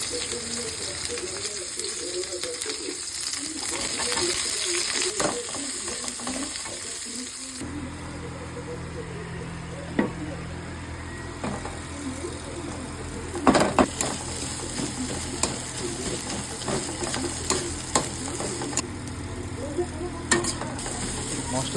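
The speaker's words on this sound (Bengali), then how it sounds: "মশলাটি একটু ভালো করে ভেজে নিয়ে" Chopped onion, green chili, ginger and garlic frying with cumin in a pan, a soft steady sizzle broken by scattered stirring scrapes and clinks, fairly quiet and with nobody talking.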